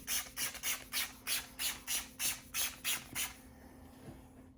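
A fine mist spray bottle sprayed onto a face, pumped in quick succession, about eleven short hissing bursts in a steady rhythm, close and fairly loud, then it stops.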